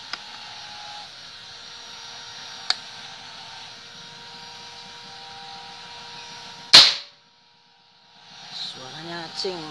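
A single sharp, loud air rifle shot cracks out after several seconds of steady background hiss, followed by a brief silence and faint voices.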